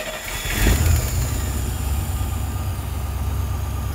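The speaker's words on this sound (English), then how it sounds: "So let's go ahead and start this engine, see where our pressure is." A car engine fitted with an adjustable fuel pressure regulator cranks and catches with a loud burst, then settles into a steady, close, low rumbling idle.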